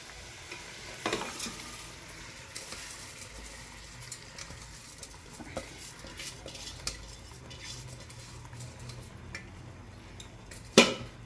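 Rice stirred into a vegetable pulao in a pan: quiet scraping and clinking of a spoon against the pan over a faint sizzle, with a sharper knock near the end, no voices.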